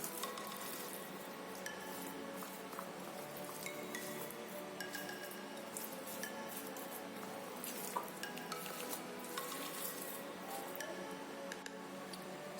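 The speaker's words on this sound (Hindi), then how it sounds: "इसको हम अच्छे से मिक्स करेंगे।" Vegetable cutlet mixture of mashed potato being mixed by hand in a bowl, a steady run of soft squelching, stirring and light clinking close by for several seconds, with no talking.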